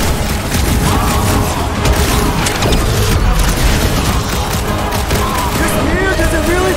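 Rapid, continuous gunfire from a no-cooldown weapon in the Guardians of the Galaxy video game, dense and loud, mixed with booming impacts, game effects and voices throughout.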